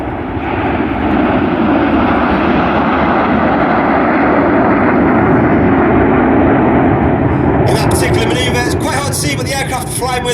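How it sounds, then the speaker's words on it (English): RAF Red Arrows jet aircraft fly a display at an airshow, a loud, sustained roaring jet noise that fills the air, with a commentator's voice coming in over it near the end. "But the aircraft are flying with their air brakes out."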